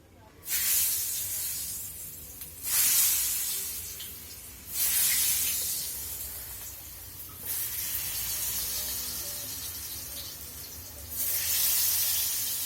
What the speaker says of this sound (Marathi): आता आपलं तेल गरम झालेलं आहे आणि मी आता याच्यात आपले फ्रेंच फ्राईज टाकणार आहे.